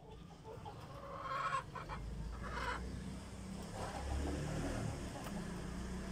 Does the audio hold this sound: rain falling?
no